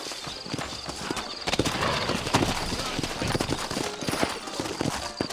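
Hooves clip-clop steadily with a horse whinnying amid busy ambience in the video game Red Dead Redemption on Nintendo Switch, and a voice talks over the sounds.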